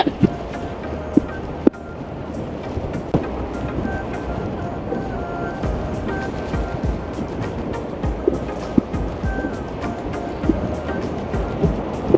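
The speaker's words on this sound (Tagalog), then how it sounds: "So narinig niyo po yung agos ng tubig, dagat." Seawater churns and rushes continuously nearby, a broad steady wash with occasional small knocks and splashes, no voices over it.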